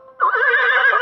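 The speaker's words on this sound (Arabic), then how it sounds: "حصان." A horse gives a single loud, close whinny that holds steady and bright for about a second after a faint lead-in, with no other sounds around it.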